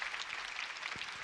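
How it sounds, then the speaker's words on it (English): A short burst of audience applause at a panel session on Indigenous peoples and water, an even, fairly faint crackle of many hands clapping throughout, with no voices over it. "Can we just have another round of applause for Mikasa"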